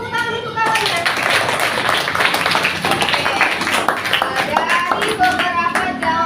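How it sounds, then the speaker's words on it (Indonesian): Classroom applause for a classmate, a dense, steady patter of many hands clapping close by, with children's voices mixed in throughout. "Kasih tepuk tangan untuk kawannya."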